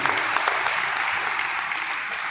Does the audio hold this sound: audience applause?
yes